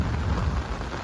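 Heavy monsoon rain pours steadily over flooded paddy fields, a dense continuous wash with a low rumble underneath, close and uninterrupted, with no voices.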